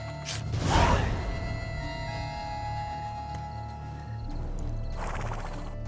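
Horse from The Witcher 3 with a loud whinny up front, then steady clip-clopping hooves under a sustained musical drone, with a second swell of hooves and rustle near the end.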